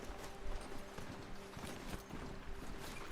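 A horse galloping in the video game Horizon Zero Dawn, with steady rapid hoofbeats drumming close and fairly loud over a continuous ambient background.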